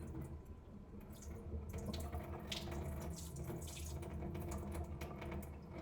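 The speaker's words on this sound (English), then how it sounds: "Pour this rice in, swirl my hand around." Water swishes and sloshes in a bowl as rice is swirled by hand to rinse it, with running tap water in the background, close and fairly quiet.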